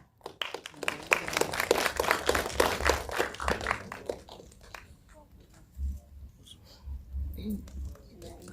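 Applause for Anissa Kaila at a press conference for the film CLBK: a burst of clapping rises, then fades under a voice speaking over it.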